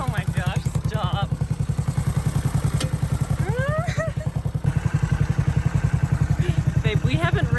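A vintage Honda CB450 motorcycle engine idles with a steady, loud, rapid thumping beat right up close, while people talk and exclaim over it.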